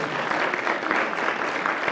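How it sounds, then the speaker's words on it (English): Sustained audience applause for an event organizer at the closing remarks of a student-entrepreneur event, a dense, steady wash of clapping filling the whole stretch with no voices over it. "please give her a round of applause"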